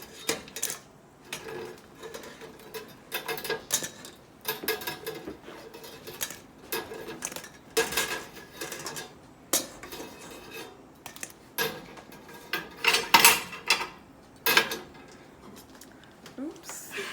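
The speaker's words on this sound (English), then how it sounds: "you're going to add your Loukoumades to a mixing bowl" Loukoumades with cinnamon and sesame seeds tossed in a mixing bowl, producing repeated clinks, scrapes and taps of utensil against bowl in irregular bursts, while a person talks between them.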